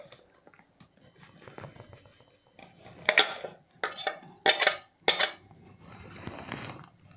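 Semolina dosa batter with ground potato is stirred in a bowl, giving a few sharp scraping and clinking bursts of a utensil against the dish in the middle, between quieter soft stirring, with no talk.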